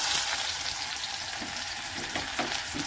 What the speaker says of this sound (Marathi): आणि आता आपण टाकूया इथे कांदा